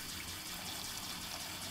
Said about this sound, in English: So, hold on, I'm gonna turn the water on.